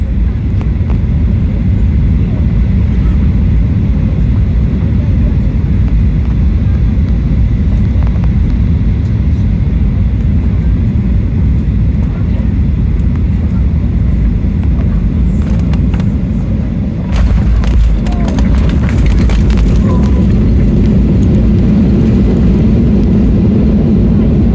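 Cabin of a Ryanair passenger jet descending toward landing at Charleroi: a loud, steady low engine roar and airflow rumble fills the space, with brief rattles and shifts in the drone partway through.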